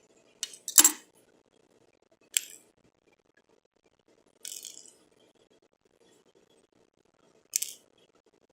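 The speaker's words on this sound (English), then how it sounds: "we're going to take the pins out and we're going to do the cutting." Scissors cut through fabric while opening a single welt pocket, giving four short, crisp snips spaced a couple of seconds apart, close and fairly quiet, with no talking.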